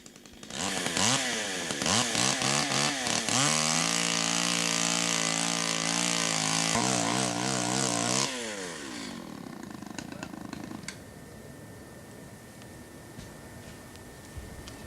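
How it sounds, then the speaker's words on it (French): A chainsaw cuts down a tree that is too big, screaming loudly at high revs with wavering pitch, then dropping to a lower rattling idle before fading. No one speaks. "Malheureusement, il fallut découper l'arbre qui était trop grand."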